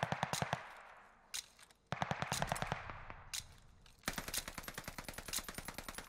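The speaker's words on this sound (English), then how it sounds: "Dude, I'm blind firing!" Automatic gunfire in Call of Duty Vanguard, a 2v2 Champion Hill match, as a player blind fires: rapid bursts of repeated shots broken by short pauses, then a long sustained stream of evenly spaced rounds, loud and close.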